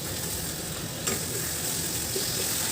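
Masala with Kashmiri chilli powder is stir-fried in oil for a kofta curry, making a dense, even hiss close by with a faint tick or two.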